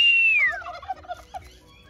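A domestic turkey tom, puffed up and red during display, gives one loud close gobble opening with a high falling whistle-like note and breaking into a rapid warbling rattle that fades out.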